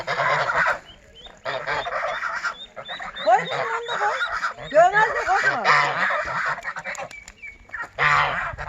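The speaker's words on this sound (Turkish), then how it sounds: "De, ördekler korkuyor. Seviniyorlar aslında." Waterfowl call loudly and repeatedly, a noisy mix of honking and quacking up close, with some faint background voices.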